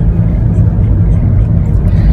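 Steady low rumble of a car moving through crowded highway traffic near Bangalore, a continuous engine and road drone that stays loud and even throughout with no clear individual passes.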